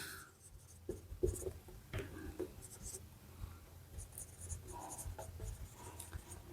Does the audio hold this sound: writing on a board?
yes